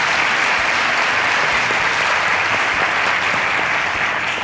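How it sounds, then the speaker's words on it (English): A television show audience gives loud, continuous applause for a guest, a thick even wash of many hands clapping close by with no break. "Another round of applause for the lovely lady."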